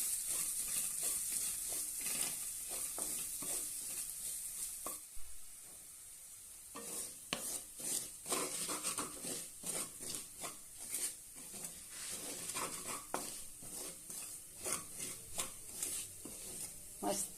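Barnyard millet (varai) roasting in ghee in a pan for sweet shira, a steady high sizzle with repeated scraping strokes of stirring, briefly quieter mid-way, then irregular scrapes and clatter over the frying hiss.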